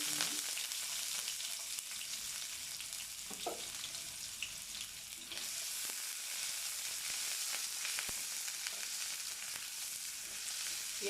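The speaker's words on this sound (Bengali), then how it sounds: "পেঁয়াজটা একটু লাল লাল করে ভেজে নেব" Onions frying in a little oil in a frying pan while making minced-meat filling for potol dolma, giving a constant bright sizzle up close, with occasional stirring knocks and no speech.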